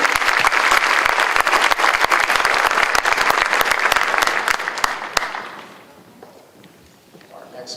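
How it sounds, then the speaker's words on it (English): Audience applause at a Kiowa County promenade, loud dense clapping from a crowd for about five seconds before fading away into quiet room noise. "round of applause for James and Reagan"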